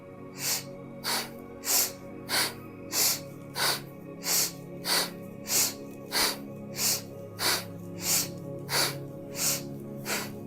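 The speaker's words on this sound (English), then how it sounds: "take a deep breath in through the nose just to prepare" Sharp, rhythmic breaths drawn through the nose during a kundalini breathing practice, about a dozen and a half evenly spaced puffs, close and fairly loud with no talk.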